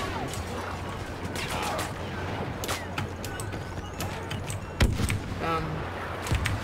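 Gunfire in the Star Wars Battlefront video game, with rapid blaster shots and bursts scattered over a busy battle din and a few sharper impacts, while a player talks over it.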